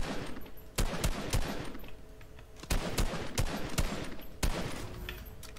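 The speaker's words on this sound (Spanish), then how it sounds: "He escuchado tiros." Gunfire in the Fortnite video game, a rapid series of sharp shots in uneven bursts, moderately quiet and distant-sounding, with no talk.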